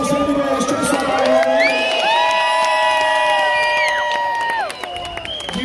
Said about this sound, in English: Let's go round of applause for anybody who's dressed up.